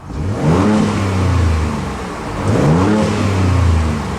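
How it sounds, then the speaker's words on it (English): A 2023 Ford Ranger Raptor pickup engine revs hard twice, the deep roar rising and falling with a brief dip between the two pushes. "And now let's listen to the engine roar."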